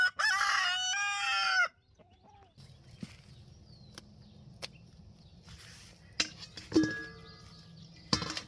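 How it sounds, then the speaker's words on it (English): Rooster crowing in the morning, a loud, long drawn-out crow at the start, then quieter farmyard sounds with a few clucks and sharp knocks afterward. "Even my roosters need to make an impression in the morning."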